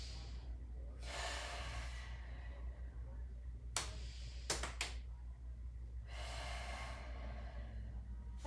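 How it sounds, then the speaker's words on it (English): Slow deep breaths during a breathing and bracing exercise, with two long audible inhalations or exhalations several seconds apart, close and airy, and a few sharp clicks or knocks between them. "putting your hands on your rib cage and taking some deep breaths here"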